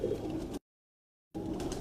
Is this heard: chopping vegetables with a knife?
no